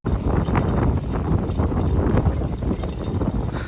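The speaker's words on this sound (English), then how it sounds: "It is super windy." Steady, loud wind buffeting a microphone, a dense low rumble with gusty roughness throughout, no voices.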